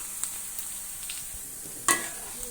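Sliced onions and green chillies frying in a pan, a quiet sizzle with a few light stirring knocks and one sharper clink near the middle.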